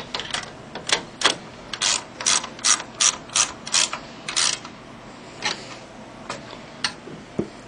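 A 1/2 inch wrench tightens a bolt during a fabric advance installation, giving a run of close, loud ratcheting clicks in evenly spaced bursts that slow and thin out toward the end.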